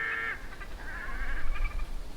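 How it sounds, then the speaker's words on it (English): An unidentified bird calls outdoors along the McCarthy Highway in Alaska, a loud, near, harsh honking cry at the start followed by softer wavering calls, heard alone over a low rumble. "I'm not sure what that is. It's a bird of some kind."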